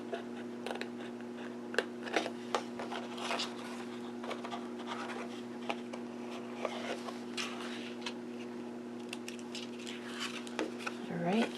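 Scissors snip through a cardboard box along a score line, giving a run of short, close clicks and crunches over a steady low hum, with no talk.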